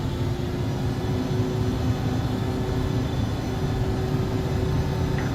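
Embraer ERJ145 jet engines at takeoff power in X-Plane 11, a steady loud roar with a faint whine on top, constant throughout with no talking.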